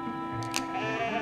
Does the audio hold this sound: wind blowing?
no